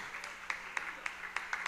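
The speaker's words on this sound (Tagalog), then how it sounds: "Isang malakas na palakpak para sa ating dakilang Diyos" A church congregation claps in praise to God during a preaching and altar call, sharp distinct claps landing in a loose steady rhythm over a soft background.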